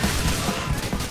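A rapid, dense burst of rifle fire from a reindeer character in the video game GTA IV with Christmas mods, loud and continuous across the moment.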